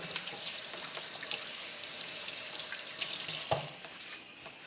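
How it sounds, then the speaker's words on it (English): Tap water runs into a sink while hands are washed beneath it, a steady close splashing rush that briefly swells near the end before easing off, with no voices. "I'm gonna wash my hands."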